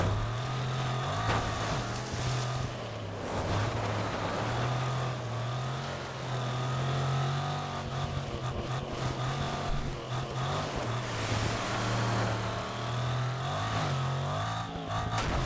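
Truck engine in the racing game DiRT 2, a steady low drone with revving rising and falling throughout, loud and continuous, with no talk over it.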